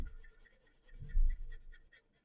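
Someone colors in on paper with a pen or crayon. Quick, rhythmic back-and-forth scratching strokes sound close and soft, then stop abruptly near the end.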